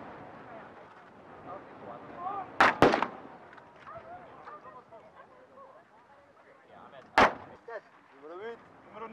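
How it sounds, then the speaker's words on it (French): Rifle shots crack on an outdoor weapons range during prone firing drills, two loud sharp reports a few seconds apart standing out over a French-speaking instructor's voice. "Pour un tir de 5 cartouches, position de tir en couché en position."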